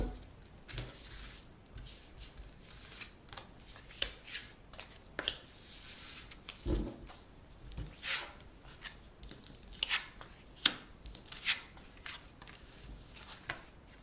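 A deck of tarot cards is cut and shuffled by hand, giving soft, irregular riffling and flicking sounds with light taps at close range. The sounds are quiet, and no one speaks over them.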